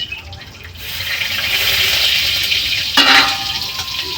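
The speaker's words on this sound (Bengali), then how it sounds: "এই যে শুকনো লঙ্কা যে ফোড়ন দিয়ে দিলাম" Dried red chillies tempering in hot oil, a loud close hissing sizzle that swells and holds steady, with a brief sharper burst of spattering partway through.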